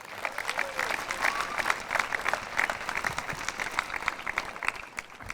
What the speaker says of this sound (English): how about one more round of applause for Mary Pierce?